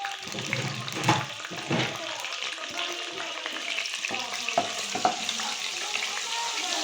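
Onions and cumin frying in a pan for aloo matar curry give a close, crackling sizzle with irregular stirring scrapes, steady and moderately quiet.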